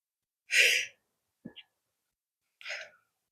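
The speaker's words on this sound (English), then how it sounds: "I think I'm about to sneeze." A single sharp sneeze bursts out, followed by a faint breath and a short exhale, with silence in between.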